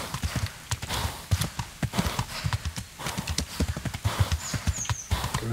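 A horse climbs a hill in the medieval game Kingdom Come: Deliverance, with hooves clopping in a steady, fairly loud rhythm, occasional snorts and a brief whinny.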